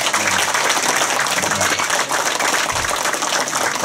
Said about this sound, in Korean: 우리 이상희 전 시장님께 크게 감사의 박수.